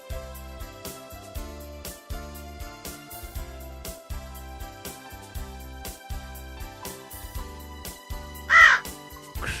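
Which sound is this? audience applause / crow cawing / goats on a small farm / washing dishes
crow cawing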